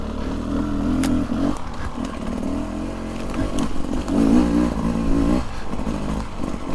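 A 2023 Beta 300 Race Edition two-stroke dirt bike with stock jetting runs steadily on a mountain trail, its engine droning and revving up and down loudly and close, with rattling and scraping over the terrain.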